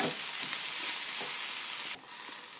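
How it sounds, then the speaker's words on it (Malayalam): Okra for a Kerala-style thoran frying in a pan, a steady dense sizzle that runs continuously and loud, with a brief dip near the end, no voices. "നമുക്ക് വെണ്ടക്ക വെന്ത് വരാൻ വേണ്ടി വെച്ചാക്കാം"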